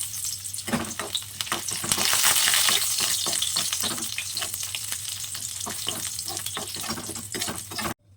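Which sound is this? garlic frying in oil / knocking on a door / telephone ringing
garlic frying in oil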